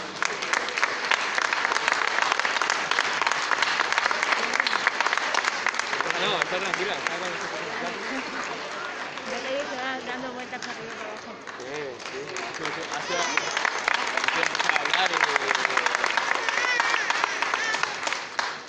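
Audience applause at a festival proclamation in Barruecopardo, sustained dense clapping from a crowd that swells, dips slightly midway, then builds again for nearly twenty seconds.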